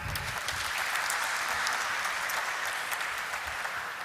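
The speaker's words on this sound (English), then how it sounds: "I would say a big round of applause to make it happen." An audience at a company stock listing ceremony applauds steadily, a continuous dense wash of clapping at moderate volume.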